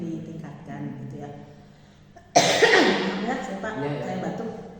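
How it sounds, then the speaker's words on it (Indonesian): A woman lets out a sudden, loud cough after a stretch of soft, quiet talk, followed by a lingering rasp that fades under low background sound. "Saya batuk."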